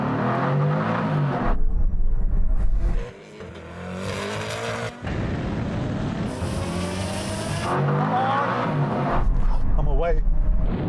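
Koenigsegg Agera RST launching hard in a drag race against a Tesla Model S Plaid and Suzuki Hayabusa, loud roaring engine with rising gear-change sweeps and tire noise, a driver talking excitedly over it throughout.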